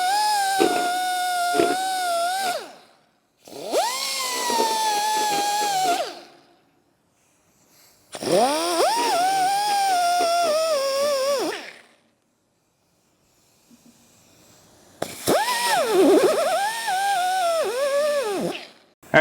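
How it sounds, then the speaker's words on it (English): Welding tacks on a bolt to fix it to a Duramax truck bed. Four separate bursts of a few seconds each are heard, close and loud, with silent pauses between them and no talk. "put a couple of tacks on the bolt, weld it to the bed"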